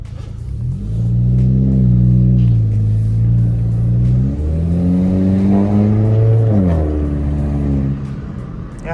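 A Volkswagen car's engine revs steadily while driving, its low harmonic drone rising and falling in pitch through gear changes, loud and close throughout with no talking.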